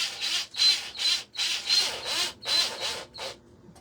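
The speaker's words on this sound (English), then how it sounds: "And I'm just going to drill a hole" A small power drill whines in short, repeated high-pitched bursts into cured resin, about seven pulses with brief pauses between them, close by.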